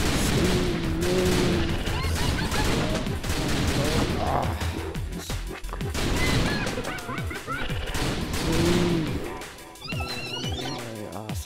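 Rapid game gunfire from The Typing of the Dead, a loud, dense stream of shots over busy game music and effects, with no pauses across the stretch.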